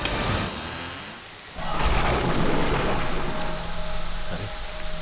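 Heavy rain pours down steadily as a dense, loud hiss, with a deep rumble of thunder swelling in the middle and no voices.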